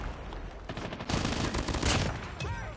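Rapid gunfire from a BY-15 shotgun in COD Mobile, dense loud bursts of shots with game sound effects, close and continuous without talk.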